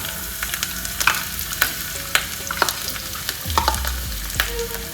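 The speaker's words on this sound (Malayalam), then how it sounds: "ഈ ചൂടായ എണ്ണയിലോട്ട് ഒരു 5 പച്ചമുളക് കുഞ്ഞു കുഞ്ഞായിട്ട് അരിഞ്ഞതേ അതിട്ട് കൊടുക്കാം." Finely chopped green chillies crackle and sizzle in hot oil close by, with sharp pops scattered over a steady frying hiss and occasional stirring scrapes.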